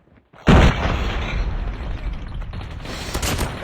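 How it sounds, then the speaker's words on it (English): A grenade goes off in Call of Duty with a sudden loud blast, then a sustained rumbling roar and crackling gunfire-like bursts for several seconds. "Watch out, grenade!"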